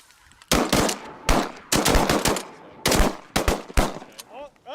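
Several close, loud shotgun blasts during a duck hunt, fired in quick bursts of two or three with short pauses between, while a hunter's voice and duck-like calls are faintly heard.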